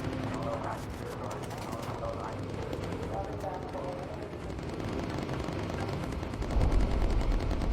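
.50 caliber machine guns firing from a WWII bomber in the game Bomber Crew, heard as a steady rattling stream of gunfire beneath continuous game noise and engine drone, with a heavier burst near the end.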